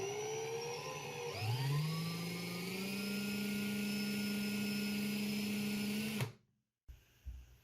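An electric drill whirs loudly, its pitch rising as it spins up, then holds a steady high whine before cutting off abruptly.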